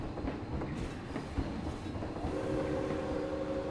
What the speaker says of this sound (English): The second phase of the train ride under the wooden roller coaster.